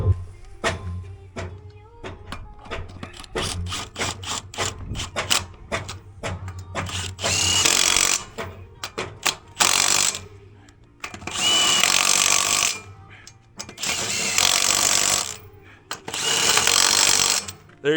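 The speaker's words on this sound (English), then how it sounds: "your tire just mounts right up there with a 3/4 inch socket and impact." An impact wrench with a 3/4 inch socket mounting a gauge wheel tire on a Yetter rotary hoe behind a tractor, several loud sustained buzzing bursts of a few seconds each, separated by pauses, with talking and clattering before them.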